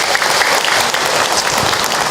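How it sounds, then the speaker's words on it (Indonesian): Loud, dense audience applause throughout a short stretch at an Islamic religious lecture, steady and close with no talking over it. "Tepuk tangan buat kita semua."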